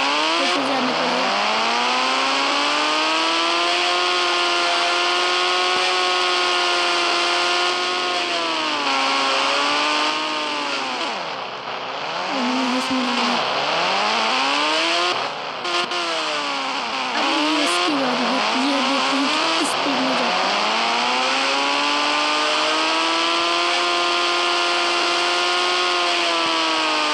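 A motorcycle engine revs hard and steadily, its pitch climbing and dipping in repeated sweeping throttle blips at close range, loud and alone with no talking.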